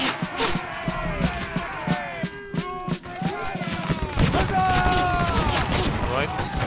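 Musket volley fire in the Napoleonic Wars game Battle Cry of Freedom: a dense crackling fusillade of overlapping shots and booms, loud and continuous, with shouting crowd noise and voices running throughout.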